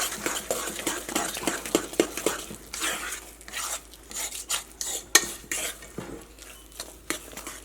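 A spoon stirs a thick semolina and banana batter with milk and vanilla essence in a bowl, making steady, close scraping and clinking strokes in a continuous irregular rhythm.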